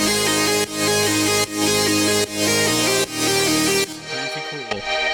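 Layered synths joined by thick Vital supersaws form a dense, wide, loud wall of sustained chords with a bouncing lead line and rhythmic pumping dips, then thin out near the end; no one speaks.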